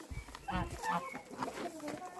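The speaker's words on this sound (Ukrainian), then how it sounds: "О, качка пище, чуєте, хоче зелені." A duck squeaks among farmyard poultry and geese, with short, repeated nasal calls that come close together over a faint background, while a person talks nearby.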